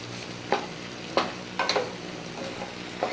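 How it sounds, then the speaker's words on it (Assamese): Pigeon meat curry with papaya and black pepper frying in a pan, stirred every so often, giving a steady sizzle broken by several sharp scraping strokes of the spoon. "এয়া চাওকচোন মাংসখিনি কিমান ধুনীয়াকৈ সিজিব ধৰিছে"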